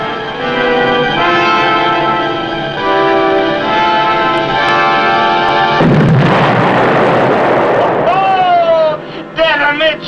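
A torpedo hitting a ship amidships, a loud deep explosion roaring up out of a background of talking voices and music, then fading as the voices carry on.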